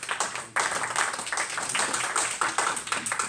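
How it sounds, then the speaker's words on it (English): Sustained audience applause fills a conference hall, dense and steady clapping after a brief dip, loud and close with no talk over it. "Please, another round of applause."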